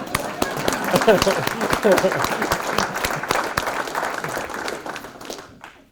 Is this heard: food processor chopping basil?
no